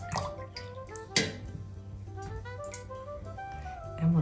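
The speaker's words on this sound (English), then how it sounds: "just wash your brush off" A paintbrush being rinsed in a water jar while painting makes light, close drips and splashes, with a louder slosh near the start and a clink at the end.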